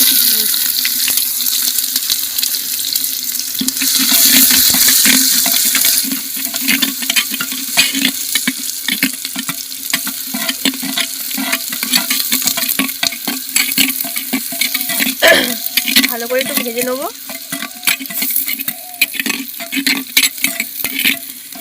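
Onion frying in hot oil with bay leaf, cumin, cloves, cardamom and cinnamon on a traditional clay stove, with a loud steady sizzle, spatula scrapes against the pot and no talking.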